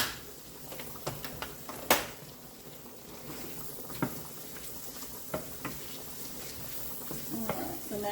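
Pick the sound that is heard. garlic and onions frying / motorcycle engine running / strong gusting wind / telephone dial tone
garlic and onions frying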